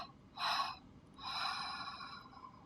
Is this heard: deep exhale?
yes